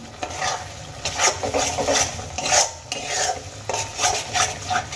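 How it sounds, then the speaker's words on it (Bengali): Whisked sour yogurt stirred with masala in a pan over a low gas flame for a Bengali egg curry, heard as repeated scraping strokes of a spoon against metal with a soft sizzle underneath, close and steady. "দই দিয়ে দেওয়ার পরে আরও 2 মিনিট আমি খুব ভালো করে মশলার সঙ্গে দই একসঙ্গে কষিয়ে নেব"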